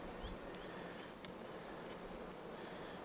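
A steady, dense buzz of honey bees swarms around a hive, continuous and even, with a few individual bees passing close by.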